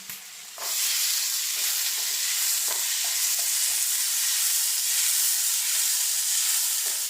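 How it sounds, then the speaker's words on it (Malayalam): Onions and chopped tomatoes sautéing in a pan for a prawn biryani give off a steady close sizzle and hiss, with soft scraping stirs dotted through it, starting abruptly after a brief quieter moment. "എന്നിട്ട് ഇതെല്ലാം അവിടെ നന്നായിട്ടൊന്ന് വഴറ്റിയെടുക്കാം."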